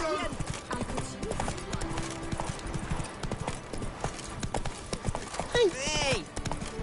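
Clip-clop of the horse Roach galloping in The Witcher video game, a steady rapid hoof rhythm close and loud throughout, mixed with game music and a brief whinny near the end.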